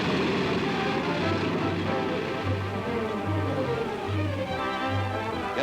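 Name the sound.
flying automobile aircraft engine in flight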